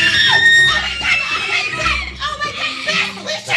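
Loud, shrill screaming bursts out repeatedly, close and piercing, with excited voices mixed in.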